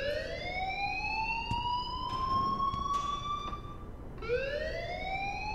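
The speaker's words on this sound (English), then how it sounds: "Leave Miss Caulfield alone and please turn off that alarm since that's your job." An alarm in the Life is Strange video game wails steadily, a loud rising and falling siren-like tone that dips and restarts, with no talking over it.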